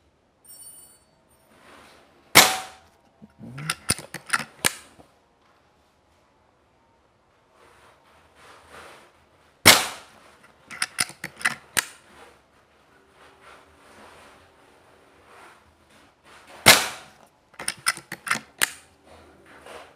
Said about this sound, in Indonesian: Coba saya tes tembak dulu hasil seperti apa.